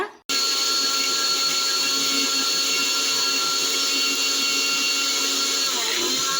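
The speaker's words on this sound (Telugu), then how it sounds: "దాన్ని అయితే మిక్సీ కొట్టి వేయాలన్నమాట" An electric kitchen mixer grinder whirs at full speed, blitzing fried gongura leaves for a chutney. The motor starts abruptly after a short pause, then holds a loud, steady, close whine throughout with no speech.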